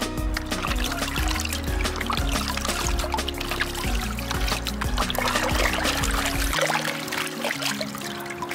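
Running water flushes over a Realme X2 smartphone in a steady, close pour that trickles on for several seconds, with tonal background sound mixed in.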